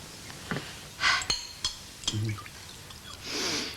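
A drink is poured to top up a glass, heard as short liquid splashes with light clinks of glassware in a quiet room, ending in a longer trickling pour.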